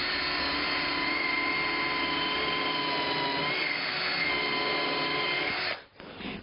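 Bosch power drill driving a 3.5-inch screw into a timber chicken coop frame, a loud steady motor whine held for several seconds before cutting off abruptly, close and alone.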